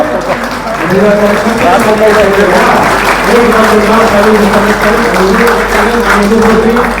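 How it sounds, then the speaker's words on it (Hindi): A crowd at a political rally in the Digha assembly constituency applauds loudly and continuously, while a prominent voice or amplified sound carries over the clapping for most of the stretch. "एक बार जोरदार तालियों से स्वागत और अभिनंदन करने का काम करें"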